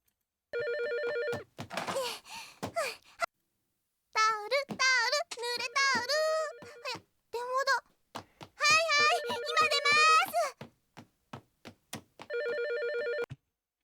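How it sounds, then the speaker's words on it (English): Telephone ringing in a Card Captor Sakura anime scene, a bright electronic ringtone sounding in repeated bursts at start and end, with a voice and other anime dialogue speaking between the rings. "Yeah, it's that ringtone."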